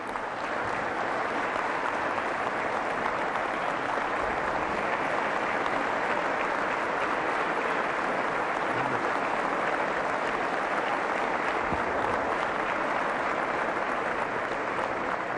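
A large audience claps at the governor's 2023 State of the State address, a dense, sustained round of applause filling the hall without a break.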